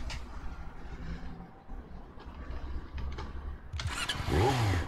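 A video game motorcycle engine in Tomb Raider: Legend rumbles at a low idle, then starts up and revs loudly near the end.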